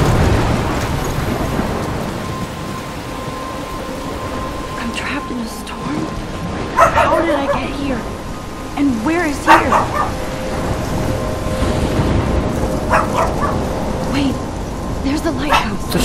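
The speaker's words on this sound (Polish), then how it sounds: "jak pies szczeka przy nagrywaniu" A dog barks outside a few times amid steady heavy rain, the sharp barks rising over the downpour while a voice talks nearby.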